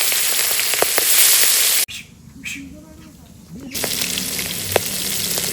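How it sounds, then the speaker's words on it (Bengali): Pateri (vetki) fish fries in a pan with spices, making a loud, close, hissing sizzle. The sizzle drops out for a quieter stretch with a faint voice, then resumes. "লাল লাল করে পাতাড়ি মাছ ভেজে নিছি"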